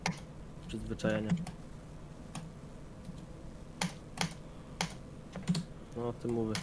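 Fast keyboard clicking while someone plays Geometry Dash, with irregular bursts of sharp key presses and brief pauses between them. A voice speaks softly underneath at points.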